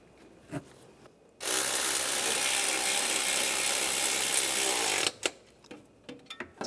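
A ratchet spins nuts down on a 2010-2016 Cadillac SRX engine during knock sensor replacement, a steady rapid clicking whir lasting several seconds, close up, bracketed by a few softer mechanical knocks.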